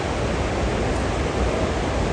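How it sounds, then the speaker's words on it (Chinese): The Xinliao waterfall roars as a constant, full broadband rush of falling water, loud and close with no pauses and no voices. "哦，瀑布看到了"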